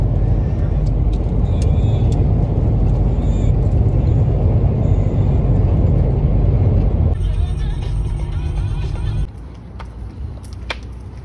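A car drives along a road, heard from inside as a loud, steady low rumble of engine and tyres that drops and thins out near the end.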